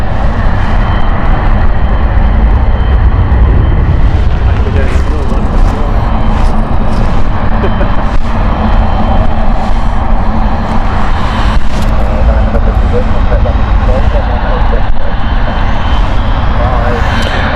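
Boeing 777 airliner passing at Stansted Airport, a loud, steady engine roar that persists throughout with a broad rumble, heard up close.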